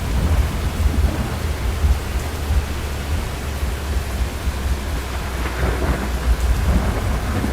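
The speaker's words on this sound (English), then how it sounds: "so we're back in the rain" Steady rain and storm noise recorded during a tornado-chasing drive, with deep low rumbling running throughout and a dense hiss of rainfall that stays loud and constant with no voices.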